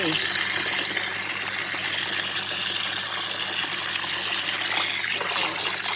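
Tap water gushes steadily into a container where boiled pork is cooling, a continuous close rushing stream throughout.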